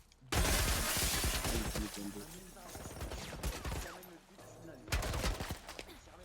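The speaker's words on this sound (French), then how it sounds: "il nous tire dessus avec quoi? Un genre de tourelle militaire!" Military turret gunfire in The Last of Us remake comes in loud rapid bursts with sharp impacts and breaking debris, easing briefly and then resuming, while a player speaks over it.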